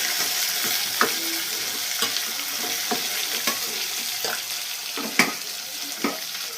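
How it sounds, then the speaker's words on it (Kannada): Onions frying in a pan make a continuous sizzle broken by regular stirring scrapes and clinks about once a second, close and moderately loud, with no talking. "ಈ ಥರ ಈರುಳ್ಳಿ ಹಾಕಬೇಕು ಗಾಯ್ಸ್. ನೆಕ್ಸ್ಟು ಆ ಥರ ಹಾಕ್ಬಿಟ್ಟು ಫ್ರೈ ಮಾಡಬೇಕು ಗಾಯ್ಸ್."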